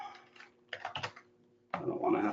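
Typing on a computer keyboard while filling in a sample employee's details, with a person talking in between; a dense burst of clicking keys comes near the end.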